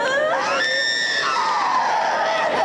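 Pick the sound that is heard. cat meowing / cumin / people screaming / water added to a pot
people screaming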